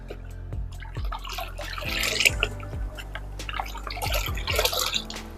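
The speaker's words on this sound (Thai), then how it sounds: "แล้วก็คนทุกอย่างเข้ากันอีกทีครับ ระหว่างหัวเชื้อและน้ำเปล่าครับ" Liquid plant fertilizer and pest repellent mixed with about ten litres of water is stirred, giving steady rhythmic sloshing and swirling with splashy drips, fairly close and continuous.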